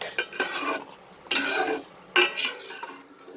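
A spoon scrapes and stirs moong dal khichdi in a pot while it sautés uncovered, in three separate bursts of close scraping with brief quiet gaps.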